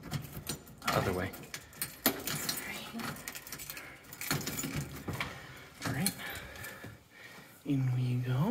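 A set of keys jangles and clinks in short metallic bursts as someone carries them with full hands on the way indoors. Close-up talking and other household noises run throughout.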